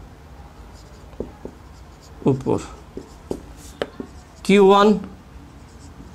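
Short scratchy strokes of writing on a board during a Bengali-language physics lesson on electric charges, a few light marks scattered between a teacher's steady speech.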